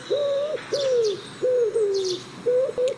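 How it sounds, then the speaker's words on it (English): Pigeons roost in the rafters of a laundry room, cooing in low, rhythmic phrases: five or six drawn-out coos, close and clear, with brief pauses between them over a quiet background. "It hummed with the low, rhythmic cooing of pigeons nestled in the rafters of the laundry room."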